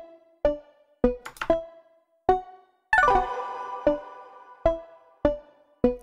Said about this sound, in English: This is what the Serum patch sounds like without any effects.